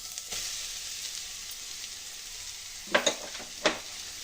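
Grated carrot sizzles steadily as it is stirred and fried in a pan, with a low continuous hiss and a few sharper scraping strokes near the end, close and alone.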